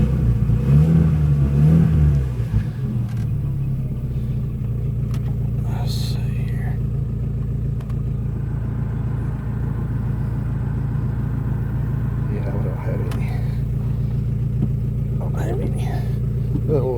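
A Volkswagen Golf engine idles steadily close by, a low constant rumble that holds for most of the stretch after a brief higher rev at the start, with faint clicks and handling noises over it.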